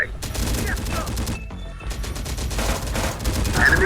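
Sustained video game gunfire in a military shooter, dense rapid bursts like machine guns with a brief lull partway through, loud and continuous, with faint radio-style voices underneath.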